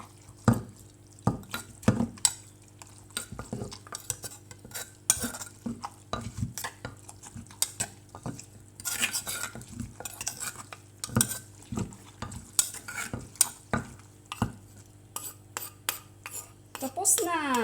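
Homemade Thai papaya salad (som tum) being stirred and tossed, with repeated clicking and scraping of a utensil against the bowl in an uneven rhythm, close and fairly loud, plus a few soft wet squelches and no talking.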